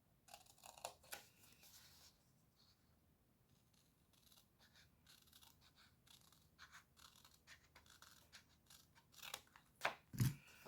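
Scissors snip through scrapbooking paper along dotted lines, a run of quiet, close crisp cuts and rustles ending in a louder snip.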